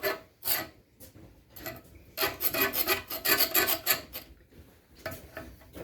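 Steel plate is trimmed by hand for fireplace doors, with rasping strokes that come in short irregular bursts and then a faster run of repeated scrapes, close and fairly quiet, with no talking.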